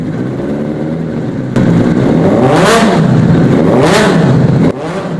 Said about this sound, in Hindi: अब मैं आपको 600 का साउंड सुनाता हूँ। तो अब्दुल्ला ने स्टार्ट कर दिया।